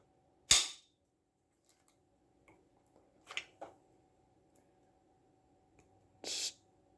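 Trigger on a SAR 9mm pistol pulled through take-up to a crisp break, then reset: a sharp click near the start, a couple of small clicks around the middle, and a louder snap near the end, close and with quiet gaps between.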